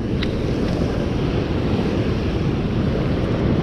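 Westerly wind at sea during old-school rod and reel fishing from a boat buffets the microphone with a loud, steady rumble, mixed with the broad wash of waves and no talking.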